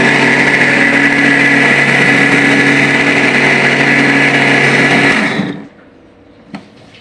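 A mixer grinder whirs loudly and steadily for about five seconds grinding soaked multigrain dosa batter grains, then cuts off, leaving quiet with a small clunk.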